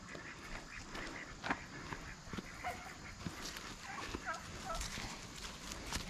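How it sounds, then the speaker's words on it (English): A turkey, a roughly 15-pound bird, gobbles in short bursts outdoors over a faint, busy farmyard background, with the calls fairly quiet and no clear talk. "it's a 15-pound bird probably"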